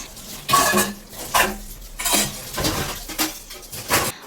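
Steel dishes and utensils clatter and clink in a home kitchen as they are gathered up, in repeated loud bursts of metallic knocks close by, with no talking.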